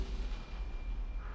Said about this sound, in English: Another Corpse Explosion.